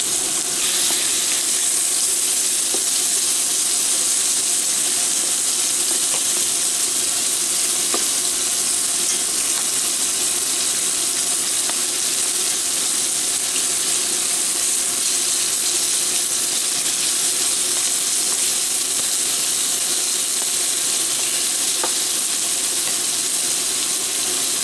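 Oil sizzles steadily in a pan while cooking shrimp scampi, a loud, continuous frying hiss that holds unbroken throughout with no voices.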